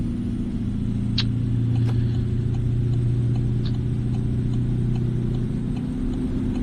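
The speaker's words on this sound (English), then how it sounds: "I've also got a V8 engine in this Kenworth" A Kenworth truck's V8 engine drones steadily at a low idle-like rumble, close and constant throughout, with a few faint clicks and taps over it.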